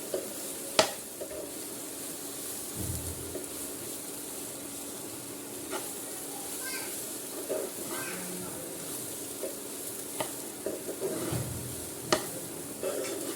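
Murmura poha, puffed rice, stirred and tossed in a hot pan, with a soft sizzle and scraping stir strokes and occasional clinks against the pan.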